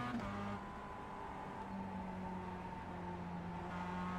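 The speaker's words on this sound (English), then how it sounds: "you can hear the tyres squeal going through the left-hander there" Mazda MX-5 in iRacing at Okayama, engine droning steadily near a constant pitch as the car holds a corner, with a tonal squeal of tyres sustained alongside it; no talking.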